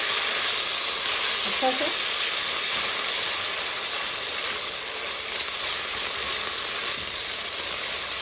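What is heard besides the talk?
garlic and ginger paste sizzling in chicken karahi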